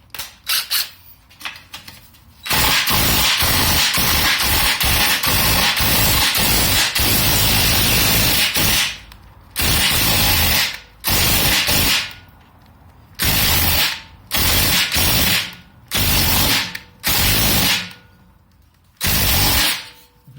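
On a BMW Z3 undergoing a catalytic converter change, an impact wrench with a 13mm socket hammers in long, loud bursts, first one extended run and then a series of shorter rattling blasts with quiet gaps between them.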